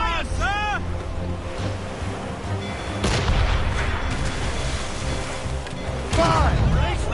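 Ship cannons fire during a naval battle in Assassin's Creed Rogue, with heavy booms over steady ocean surf and wind, while shouted orders and sharp whistling sounds cut through the background.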